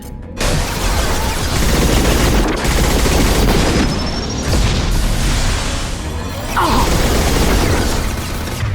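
Heavy gunfire in a Mass Effect 2 combat scene, dense rapid bursts and booming impacts overlapping continuously, loud and close, with a few brief pauses between volleys.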